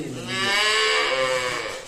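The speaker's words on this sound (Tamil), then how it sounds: "எங்கள் மாடு வர சவுண்டு போட்டுகிட்டே இருக்குது" A farm cow gives one long, loud, drawn-out moo close by, rising and holding before fading slightly, with no talking over it.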